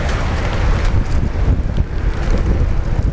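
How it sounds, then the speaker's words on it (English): A strong gust of wind buffets the microphone at Brisbane Airport after a cyclone, with loud, continuous roaring rumble and no talk. "Oh, some gust."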